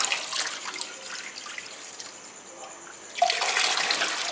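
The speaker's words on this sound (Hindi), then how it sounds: "तो लीजिए दोस्तों, अब हम इसके अंदर पानी भर रहे हैं।" Water is poured into the storage reservoir of a DIY 12V DC Peltier thermoelectric cooler, a steady splashing flow that swells louder toward the end.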